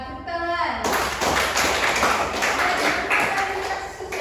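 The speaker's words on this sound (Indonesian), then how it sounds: "tepuk tangan" A few sharp hand claps from a class, rising into a brief burst of clapping over a noisy room, with a voice speaking near the start.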